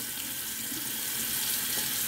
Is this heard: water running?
yes